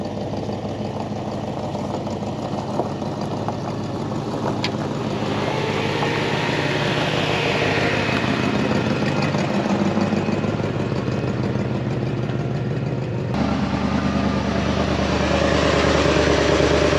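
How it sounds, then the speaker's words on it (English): A car engine warms up at idle with the choke being adjusted before bodywork, a steady close-up rumble that shifts in tone partway through and settles into a slightly different idle near the end, with a loose belt noted. "I'm gonna let it warm up, and I'm gonna adjust the choke and stuff just to make sure that everything is it sounds good."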